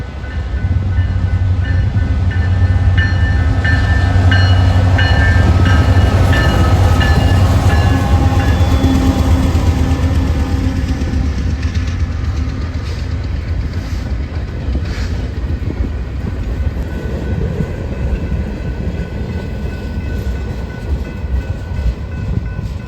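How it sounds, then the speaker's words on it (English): A BNSF westbound manifest freight led by an SD70ACE and a second BNSF locomotive passes at Great River Landing Crossing near La Crosse, a loud close diesel drone and steady rumble of cars with wheel clatter and squeal as it rolls by. "this one being a westbound manifest, led by a BNSF SD70 ACE and a BNSF Pumpkin."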